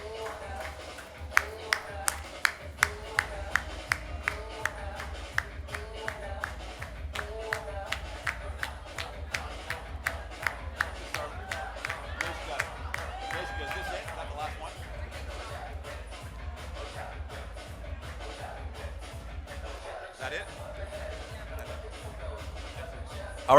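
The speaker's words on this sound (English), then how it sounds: "round of applause for our last masquerader model on the stage" A crowd applauds a masquerader model on stage at a 2023 Carnival media launch, with sharp, scattered claps that start distinct and fade into a murmur of crowd voices and talk.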